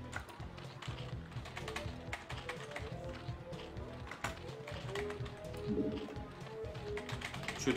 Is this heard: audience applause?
no